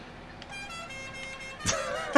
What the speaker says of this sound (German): Diese Hupe